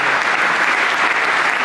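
Audience at a secularism prize ceremony applauding, dense steady clapping from a crowd, loud and sustained throughout without any speech.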